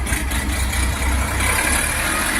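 Orion RD 244 tractor on wide tyres, its diesel engine running steadily with a continuous low rumble and mid-range clatter, close by and loud, with no talk.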